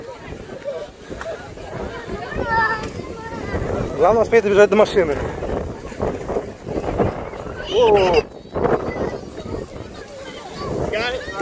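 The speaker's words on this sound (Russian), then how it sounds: "ветер сдувает кепки, все сдувает" Gusty wind on the ocean shore in Florida during an electrical storm buffets the microphone in loud rumbling bursts, blowing caps off, while several people talk and call out over it.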